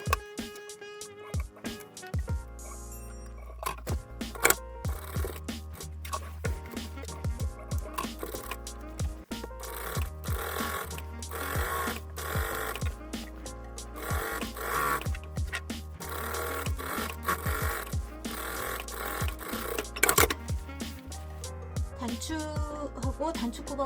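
A domestic sewing machine topstitches the shoulder seam and facing of a women's pajama top, its needle clattering in quick continuous runs broken by short pauses, over a soft background tone.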